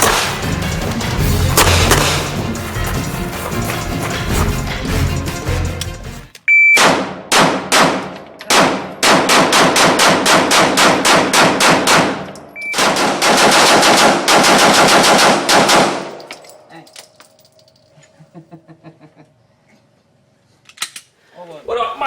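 Smith & Wesson SD9 VE pistol fired in loud, rapid strings of sharp shots, three bursts of many close reports each, separated by short pauses, then fading to quiet scattered clatter.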